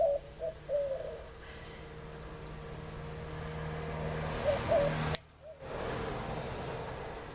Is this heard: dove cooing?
yes